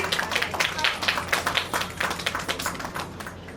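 Audience at a poster launch event for a beauty pageant in Indore, clapping with quick irregular claps that fade toward the end.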